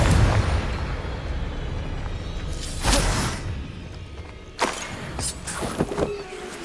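A Confringo fire spell bursts in Hogwarts Legacy, a loud explosive boom near the start of a stretch of rumbling combat noise, followed by two more sharp blasts later on.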